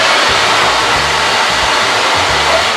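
Steady, loud whooshing roar of a running leaf blower held close, a continuous broadband blast with a low rumbling drone underneath, alone without talk.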